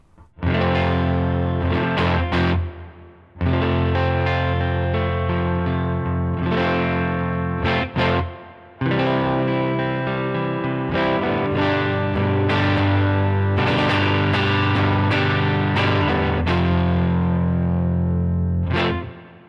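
Electric guitar played through an amp modeler at medium gain, chords ringing with slight grit and a chorus-like shimmer, loud and continuous with a few brief pauses.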